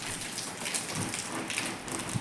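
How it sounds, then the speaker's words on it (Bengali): Heavy morning rain in Japan pours down steadily, a dense constant hiss of drops hitting surfaces, with no voices. "এত পরিমাণ বৃষ্টি হইতেছে"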